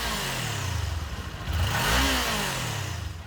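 A Kawasaki 399 cc liquid-cooled parallel-twin motorcycle engine revs up and falls back, its pitch sweeping up and down in a loud, close rumble.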